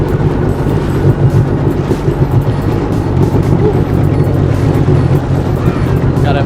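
A Seadoo jet ski runs out on a lake, its engine a loud, steady, close droning roar with a rough low rumble that never lets up.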